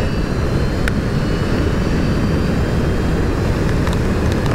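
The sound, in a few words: electric motorcycle accelerating at full throttle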